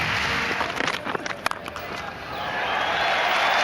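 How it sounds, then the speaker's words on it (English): A cricket crowd at a South Africa versus England test in 2004 applauds steadily in a standing ovation for Jacques Kallis's fifty, a broad wash of clapping that swells slightly toward the end, with commentary faintly underneath. "The crowd realise it and give him a standing ovation."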